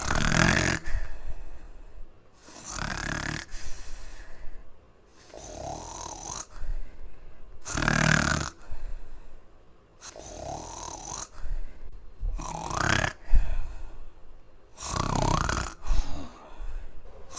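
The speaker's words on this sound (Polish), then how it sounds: "Chrapiesz i spać się nie da." A man snores in his sleep, repeated rasping snores in a steady rhythm roughly every two seconds, close and fairly loud, with no talking.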